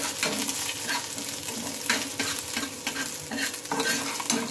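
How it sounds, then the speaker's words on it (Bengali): Chopped ginger, green chilli and chilli flakes are stirred in a pan with a little oil, giving a steady close sizzle with repeated scraping strokes of the spoon and no talk. "আর দিয়ে নেবো খানিকটা চিলি ফ্লেক্স। এগুলোকে একটু নেড়ে নেবো।"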